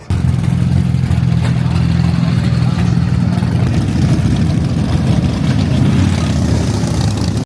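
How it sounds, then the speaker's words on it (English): BMW S1000R and KTM Super Duke 1290 motorcycles pull up, their engines giving a loud, continuous, close rumble that holds steady throughout at idle-like revs. "Look what just arrived to the party. BMW S1000R, and yeah buddy, KTM Super Duke 1290."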